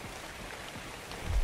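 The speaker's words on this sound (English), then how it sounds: "it's starting to rain, guys" Steady rain falls in ARK: Survival Evolved, a continuous even hiss of drops that swells a little louder near the end.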